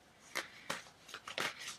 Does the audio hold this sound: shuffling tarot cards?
yes